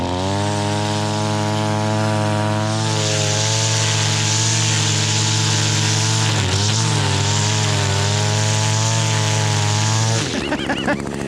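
An ECHO 225 string trimmer running at steady high throttle, its two-stroke engine droning loud and close with a brief dip in speed before cutting off near the end.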